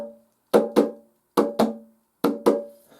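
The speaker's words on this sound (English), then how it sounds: "What a beautiful drum." A hand drum is struck in three pairs of close double beats, each hit booming and ringing out briefly before decaying, at moderate loudness with no talk over it.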